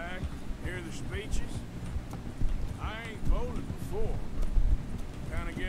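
Horse hooves clip-clopping at a run in the Red Dead Redemption video game, a steady rhythmic patter mixed with game sounds while someone talks over it.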